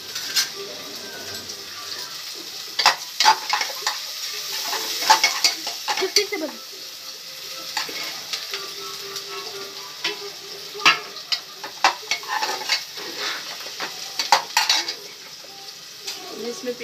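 Onion fries in a pan for a breakfast dish, giving a steady close crackling sizzle broken by scraping stirs and the clink of a utensil against metal, with no voices.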